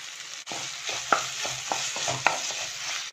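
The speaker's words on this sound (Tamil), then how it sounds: "இந்த தக்காளி நல்லா வதங்கி வரணும்." Tomatoes sautéing with asafoetida and tamarind in a pan for spicy mint chutney, with a soft sizzle and rhythmic spatula scrapes and taps against the pan every half second or so.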